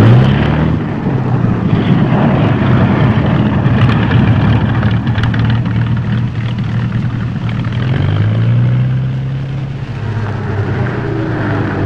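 A small propeller airplane touching down a little long and fast, a loud steady engine drone close by for the whole stretch, with slight shifts in pitch as it settles onto the runway and no voices.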